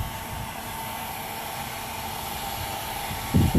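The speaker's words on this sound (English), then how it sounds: "we'll show a hair dryer for today's demonstration" A hair dryer blows a steady, even hiss of hot air while heating a vinyl hood spear decal on a Camaro hood, droning continuously and close with a short thump at the end.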